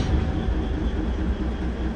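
A train stands at or moves through Kurseong railway station on the Darjeeling line, giving a steady, low, continuous rumble with a faint hiss on top and no distinct clicks or voices.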